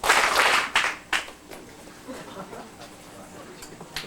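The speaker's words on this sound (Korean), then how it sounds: "박수 소리가 좀 작아요" Audience at a company intern presentation and talent show clapping, a short loud patter of applause at the start that breaks into a few scattered claps, while a host speaks over it.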